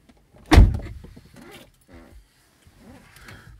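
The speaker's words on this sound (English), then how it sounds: "Shut me door." A car door thumps shut once, close and sharp, followed by faint rustling and small movement sounds inside the vehicle.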